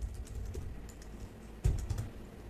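Quiet clicking of keys on a computer keyboard while writing Java code, a short run of light, uneven taps with one firmer keystroke near the end.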